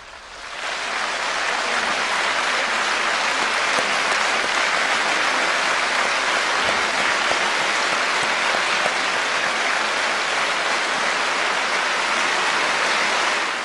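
At a political party group meeting, a large crowd gives a long standing ovation, with loud, dense, continuous clapping that swells in within the first second and stays steady to the end.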